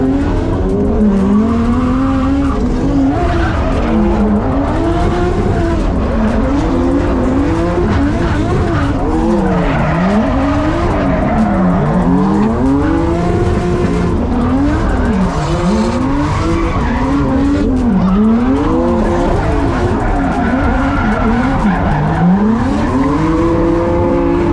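An R34 Nissan Skyline drifts at a VicDrift round, its engine roaring and bouncing through steady revs while tires squeal continuously over about twenty-four seconds, loud and close the whole way.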